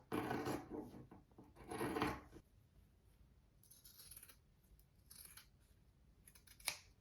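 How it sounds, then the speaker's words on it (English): Scissors snipping fabric close to a sewn seam on a quilted wall hanging, two bursts of close cutting near the start followed by quieter handling and a few faint snips. "I'm going to trim the part that's closest to the seam to make it easier to turn."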